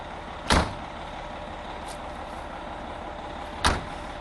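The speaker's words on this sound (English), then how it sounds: "I'm going to close up my doors." Two solid thumps of a Prevost H3-45 coach's compartment doors being shut, spaced about three seconds apart, with a faint knock between them over a steady outdoor background hum and no talking.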